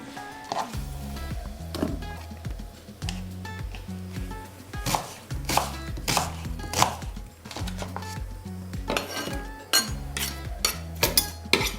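A knife chops onions on a cutting board in a home kitchen, with brisk, irregular runs of sharp close knocks and occasional light clinks of utensils.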